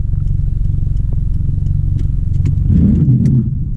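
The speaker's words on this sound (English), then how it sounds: "Awful lot of traffic for rainy." Road traffic passing on a rainy Friday: a loud, close engine rumble runs throughout and swells as a vehicle goes by near the end.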